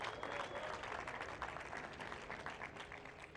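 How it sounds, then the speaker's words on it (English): An audience at a Dubai football awards evening applauds, a steady wash of many hands clapping at a moderate distance, fairly soft and continuous before easing slightly. "Big round of applause for Mr. Robert Lewandowski and Kylian Mbappe."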